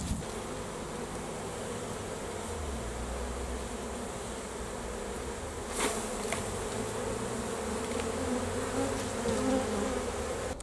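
Honeybees hum in a dense, steady swarm as they are cleared from a hive super during a honey harvest, the buzzing close and continuous, fairly quiet, with a brief knock partway through.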